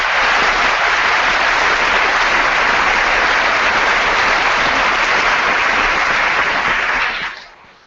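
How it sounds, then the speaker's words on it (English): A school audience applauds its teachers in a loud, dense, unbroken wave of clapping that holds steady for about seven seconds, then fades out quickly. "let's just give all of our teachers at NHS a big round of applause"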